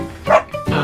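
Cartoon dog barking, the snow pup character from Paw Patrol, giving two short, close yipping barks in quick succession with no talk.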